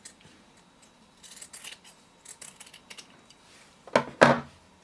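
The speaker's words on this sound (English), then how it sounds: "you can trim down the rest of the seam allowance" Scissors snip through fabric to trim a seam allowance on a small square pin cushion, with light, close cuts followed by two louder, crisp snips near the end.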